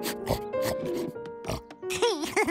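A pig grunts and snorts up close in short bursts, with a person speaking over the snuffling noises.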